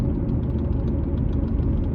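A Ford Mustang engine idles at night on a quiet street, with a loud, close, steady low rumble and a slightly uneven, throbbing pulse.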